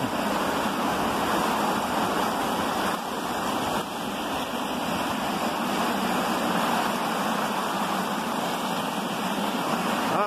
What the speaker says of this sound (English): I know there'd be quite a lot of water coming down this waterfall, guys.